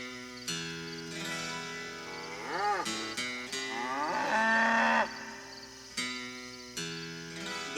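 A cow moos repeatedly within a novelty song, several drawn-out bellows with swooping pitch rising and falling, one after another over music.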